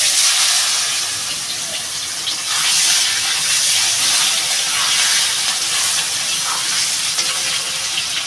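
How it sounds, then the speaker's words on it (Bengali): Pieces of elephant foot yam hitting hot oil in a pan for a katla fish curry, giving a loud, continuous sizzling hiss that holds steady throughout. "এখন আমি এবার ওলটা ঢেলে দেবো।"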